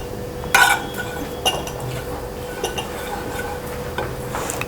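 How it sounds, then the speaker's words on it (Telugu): A pan is set down on a stove and ghee is added while cooking bread badami, heard as a sharp metallic clink with a brief rattle, then a softer knock and faint scattered clicks against quiet kitchen background. "ఇప్పుడు మరొక పాన్ పెట్టుకుని కొద్దిగా నెయ్యి వేసుకుని వేడి చేసుకోవాలి"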